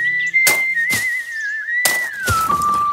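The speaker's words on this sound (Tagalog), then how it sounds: "sumipol siya habang naghuhukay" A man whistles a steady, sustained tune while digging, with a few sharp scraping chops of the dig breaking in close by.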